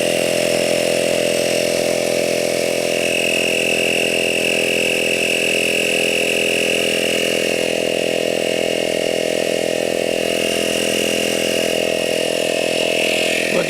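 A CYCPLUS AL7 smart tire inflator runs continuously, pumping air into a leaking tyre with a loud, steady mechanical drone and whine that stays constant throughout, with no talking.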